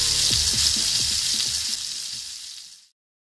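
Trout fries in a pan outdoors by a lake, giving a loud, dense sizzle with crackling spits that fades out toward silence near the end.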